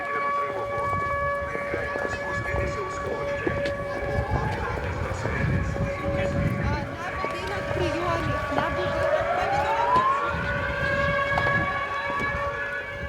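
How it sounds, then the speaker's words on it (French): An air raid alert siren wails across Odessa, a steady, droning civil-defense tone that rises and bends in pitch over a continuous outdoor rumble, heard at a distance throughout. "Une alerte retentit."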